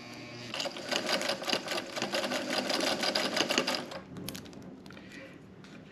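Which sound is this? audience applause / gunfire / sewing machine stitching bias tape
sewing machine stitching bias tape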